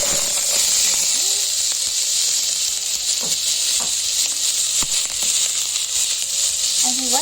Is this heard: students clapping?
no